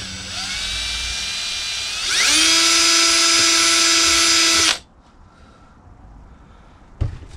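A power drill bores out a hole in a workshop, its motor whining steadily, then revving higher and louder for a few seconds before cutting off, followed by quiet and a brief knock.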